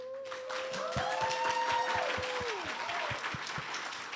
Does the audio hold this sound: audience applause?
yes